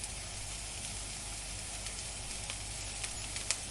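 Leftover Japanese cooked rice is stir-fried and mixed with other ingredients in a hot pan, giving a steady close sizzle with occasional sharper crackles and spatters.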